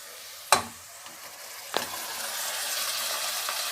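Minced meat hits a hot pan with a sharp crackling burst, then a second smaller splash, settling into a steady, fairly loud sizzle that holds through the rest, with no talking.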